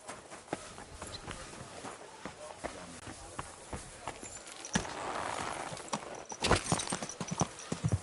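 Horse hooves clip-clop in Kingdom Come: Deliverance II, a steady walking rhythm of hollow knocks with a few louder, closer strikes, set over quiet ambient game sound and brief murmured voices.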